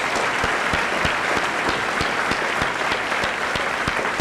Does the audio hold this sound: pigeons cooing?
no